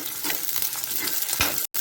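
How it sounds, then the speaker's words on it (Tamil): Garlic and curry leaves sauté in hot oil in a pan, giving a continuous close sizzle with faint stirring scrapes. "அடுத்தது பூண்டு போட்டுக்கலாம். கருவேப்பிலையும் போட்டுக்கோங்க. போட்டு இதை நல்லா வந்து வதக்கி விடணும்."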